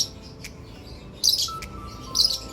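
Lovebirds in an aviary give two short bursts of high chirping, quiet at first then louder about midway and again near the end, with faint background noise and no talking.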